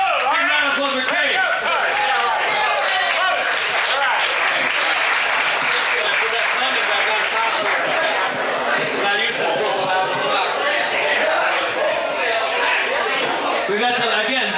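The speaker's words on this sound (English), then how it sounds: "Big round of applause for Craig." Sustained, loud applause from a large audience at a summer poker run boating event on Manhasset Bay, dense clapping with crowd chatter filling the whole stretch.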